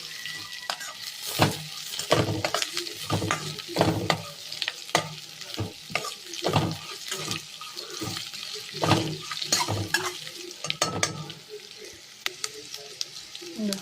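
Coriander and cumin seeds frying in a pan as they are stirred, giving repeated scraping strokes in an uneven rhythm over a soft sizzle, close and moderately quiet.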